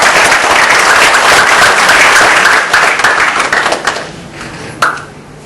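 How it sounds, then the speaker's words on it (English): A seminar audience gives a dense, loud round of applause that holds steady for a few seconds, then thins into scattered claps and fades, with one last clap near the end. "Let's give them another round of applause."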